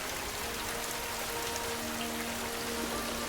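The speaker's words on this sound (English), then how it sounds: "The rain was so hard that water was splashing up off the surface of the lake" Heavy rain squall pelting a lake surface and splashing into a small boat, a steady dense hiss of drops throughout with no voices.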